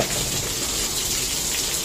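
Steady rain hisses evenly throughout, a dense continuous patter with no voices.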